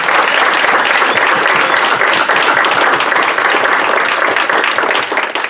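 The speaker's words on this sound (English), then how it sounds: "Let's give this crew a hand of applause" Loud, dense applause from a congregation at a spiritual living center service, continuous clapping filling the hall for several seconds and tapering slightly at the end.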